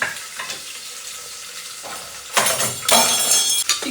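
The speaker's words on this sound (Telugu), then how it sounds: "చికెన్ కొంచెము" Chicken halim cooking in a pan: soft scraping and stirring at first, then a loud hissing sizzle that swells and holds for the last second and a half.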